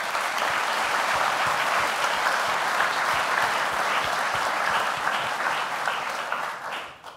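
Sustained, dense applause from an awards ceremony audience honoring lacrosse players, loud and steady for about seven seconds before fading at the end, with no voices over it.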